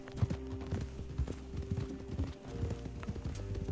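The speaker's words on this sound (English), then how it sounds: "Cavalo de acrobacia." Horse hooves clip-clop in the Red Dead video game, a quick uneven run of hoofbeats at moderate volume across a few seconds.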